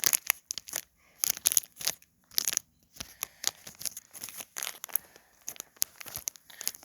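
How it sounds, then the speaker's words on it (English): A Japanese Pokémon card booster pack is torn open by hand in a series of short, close, crinkly rips and foil crumpling bursts with brief pauses between them. No one speaks. "let me just open it here. There's a little tear thing up there."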